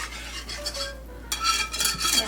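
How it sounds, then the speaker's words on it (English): Gluten-free brownie batter being whisked in a bowl gives a close, rhythmic swishing and scraping, pausing briefly before resuming more vigorously, with no speech. "then you whisk it together until fully combined."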